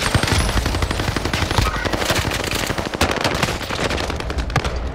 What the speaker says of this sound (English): This is the biggest gunfight of my life.